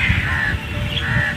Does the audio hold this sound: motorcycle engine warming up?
no